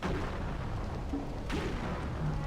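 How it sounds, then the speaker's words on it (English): Chained explosions in the water's edge level of Otogi 2: Immortal Warriors roll together into a dense, continuous rumble of overlapping blasts, loud and unbroken with no speech. "Oh, I love it when they chain the explosions in this level."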